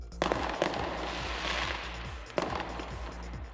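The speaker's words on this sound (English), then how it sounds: "Loads of fireworks" Fireworks burst in the distance, a few sharp cracks followed by a steady rumbling crackle of many small explosions, with no talk over it.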